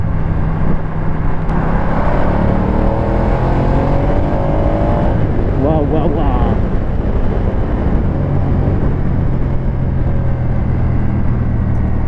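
A Ducati Diavel 1260 S motorcycle engine drones steadily and close, then its revs climb in a rising sweep mid-way before settling back into a constant loud rumble.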